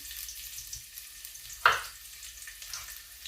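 Green pepper frying in hot oil gives a steady, soft sizzle with one sharp, loud pop or burst partway through, then settles back to a low hiss.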